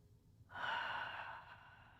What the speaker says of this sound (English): Smooth breath in. Smooth breath, open your mouth.